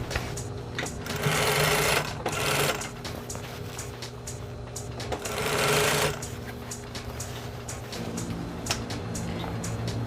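A sewing machine stitches a side seam in recycled fabric for a fringed bag, running in loud rapid bursts of mechanical chatter with brief pauses and stops, close up and with no talk.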